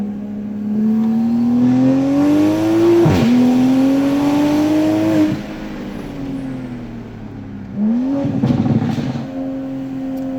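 A tuned Toyota A90 Supra pulls hard along a mountain road, its engine note rising and falling loudly through gear changes, with a brief lift between bursts of acceleration.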